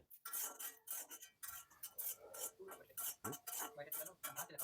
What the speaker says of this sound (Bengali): এবার পেঁয়াজটাকে আপনাকে লাল লাল করে ভাজতে হবে